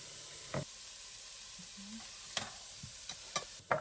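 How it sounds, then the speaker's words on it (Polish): Vegetables frying in a pan while chicken soup is prepared in a home kitchen, a steady soft sizzle running throughout with a few sharp clicks and clatters of utensils near the end. "Niech się troszeczkę smażą."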